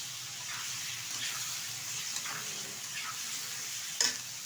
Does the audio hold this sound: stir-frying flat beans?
yes